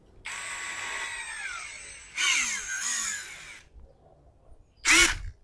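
A POLO PCB161A2 impact drill running in bursts, revving and cutting off as its clutch at setting 20 slips; three separate loud whirring runs with pauses between them, the last one short.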